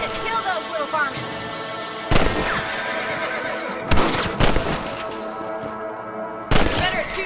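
Rifle gunshots crack out while hunting rabbits in Red Dead Redemption, three sharp loud reports spaced a couple of seconds apart. A horse whinnies and snorts between them and game voices talk over the scene.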